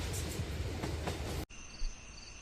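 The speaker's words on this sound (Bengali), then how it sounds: "ট্রেনটা ঠিক সময়েই মাঝদিয়া স্টেশনে গিয়ে পৌঁছলো" A cartoon-style train effect rumbles loudly and steadily with a rhythmic rolling clatter, then cuts abruptly to a quieter interior ambience with faint high tones for the final second.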